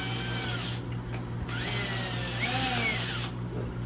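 A power drill fitted with a large drill bit bores a hole for a water tower: a loud, steady motor whine running close by, broken by two brief pauses as the drill stops and spins back up.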